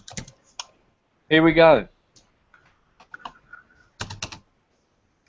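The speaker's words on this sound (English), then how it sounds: "Someone is typing very, very loud there, guys." Loud clicky computer keyboard typing in short bursts, with a brief spoken phrase breaking in between the keystrokes.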